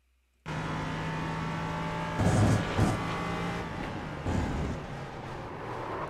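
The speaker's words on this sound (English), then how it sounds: "Let's hop on board with Matt Vey and see if we possibly can hear a lockup." Onboard engine sound from a race car lapping Laguna Seca in a sim racing game, a loud sustained engine drone that begins abruptly, with two surges around downshifts and braking and a later push back on the power.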